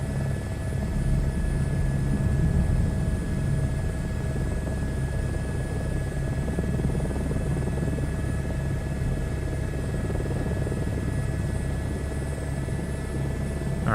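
An H125 helicopter flying in a video game flight simulator: a steady, dense rotor and turbine drone that holds at constant loudness throughout, with a faint high whine on top.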